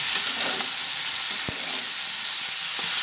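Jackfruit curry with green chili sautéing in a pan, a steady close hiss of sizzling oil with a few faint clinks of stirring, no talk.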